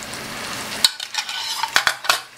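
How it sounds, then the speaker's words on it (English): Coarse chopped tomato stirred into frying onions over high flame, a steady sizzle at first, then cut to quieter scraping strokes of a spoon against the pan with a few sharp clinks. "give it a quick stir let it mix along with the onions"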